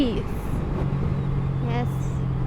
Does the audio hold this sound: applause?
no